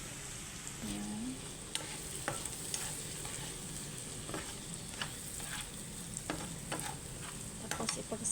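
Fried potatoes are stirred in a pan for a steak-bites dish, giving a soft continuous sizzle broken by scattered scrapes and clicks of the utensil. The cooking is quiet and nearby, with no talking.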